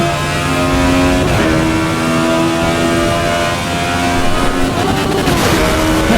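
A race car engine revs loudly in the Assetto Corsa Evo driving game, a continuous high-pitched drone with rising and falling tones through gear changes, steady and close with no talking.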